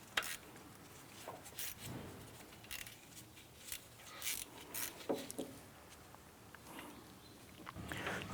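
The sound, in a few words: tightening a bolt on a Honda Civic engine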